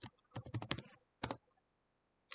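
Typing on a computer keyboard while entering items in a JavaScript to-do list app: a quick burst of close, crisp key clicks, a short pause, a second brief cluster of taps, then one more keystroke at the end.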